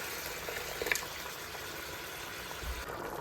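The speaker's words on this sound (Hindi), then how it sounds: "दाल हमारी उबालियाँ खा रही है" Dal lentils boiling in a pot give off a faint, steady bubbling simmer with a few small pops, close by and quiet, no voices.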